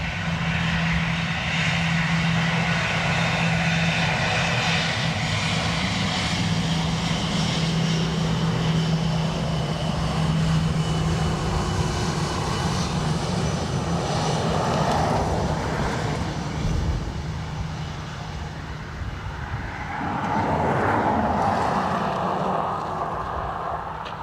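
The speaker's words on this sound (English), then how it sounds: "SAS with the wing wave on departure." An SAS airliner departing Dublin Airport on a windy day roars steadily throughout, a loud sustained engine rumble and drone that swells and shifts as the plane climbs away, with no voices.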